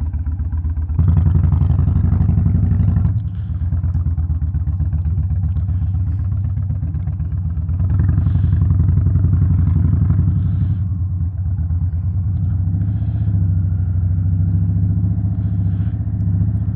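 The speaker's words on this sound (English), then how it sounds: "Upon starting the motorcycle up, this Freedom exhaust sounds really good." Pre-owned 2022 Indian Chief Bobber motorcycle with a Freedom exhaust, riding: a loud, steady low V-twin rumble with throttle swells and dips throughout, close and continuous.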